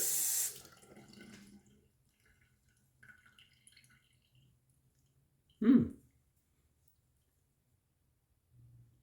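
A tap briefly runs water onto an alum block at a bathroom sink during a wet shave, with a short splash at the start, faint drips, then one louder gush midway and quiet between.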